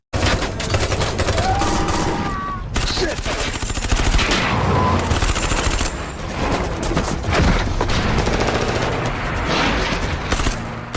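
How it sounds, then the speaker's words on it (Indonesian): Dense, rapid gunfire fills the scene, with repeated sharp bursts and booms layered under music and effects, loud and continuous throughout. "Micro mampu melakukan perlawanan dengan melepaskan beberapa tembakan"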